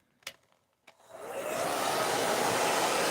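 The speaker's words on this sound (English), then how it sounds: "hair dryer noise here to dry down, dry this paper just a little bit" A few faint clicks and taps, then a hair dryer switches on and ramps up to a steady, loud whooshing roar as it blows over glued paper in a craft project.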